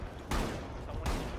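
Two sharp, loud gunshot bursts in a siege-style video game, spaced under a second apart, with a voice talking faintly underneath.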